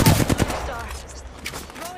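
Rapid bursts of automatic gunfire from an Apex Legends match open loud and close, then thin out into scattered shots and game effects over the rest.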